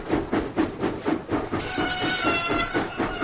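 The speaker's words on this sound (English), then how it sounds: "Huffing and puffing, James set out for the diesel works." Toy steam engine from a Thomas and Friends wooden train game puffs in a steady chuffing rhythm, with a hiss and rail clatter rising near the middle, close and moderately loud with no talking.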